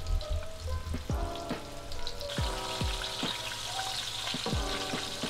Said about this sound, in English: I just love the sound of frying.